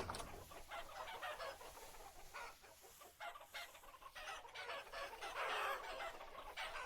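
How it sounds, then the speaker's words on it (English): A flock of chickens in the video game Vintage Story clucks and squawks in quick overlapping bursts at moderate volume, with no talk over it. "And we got all these chickens."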